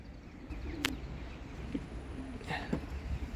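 Turkish tumbler pigeons in a rooftop coop in Kocaeli give a few soft, low coos at scattered moments over a quiet, faint background.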